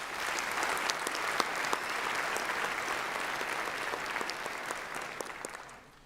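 Sustained audience applause at a university doctoral hooding ceremony, dense steady clapping that carries on for several seconds before tapering off near the end.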